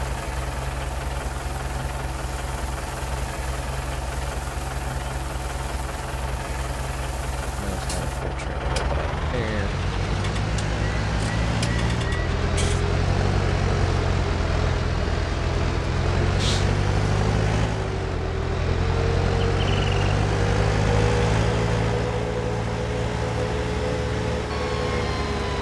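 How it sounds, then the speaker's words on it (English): A small tractor engine in Farming Simulator 19 drones steadily with a low rumbling idle that shifts pitch partway through, accompanied by faint mechanical clicks and a whine, continuous throughout. "I love the sound of this little tractor."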